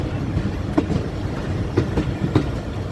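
Locomotive 8308 hauling oil tanker wagons through a station yard, its wheels clicking over rail joints in a few spaced, close knocks above a steady low rumble.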